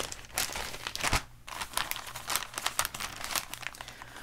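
Crinkling and tearing of a plastic sleeve around a gift package, a close, busy run of rustles and crunches for about four seconds with no talking.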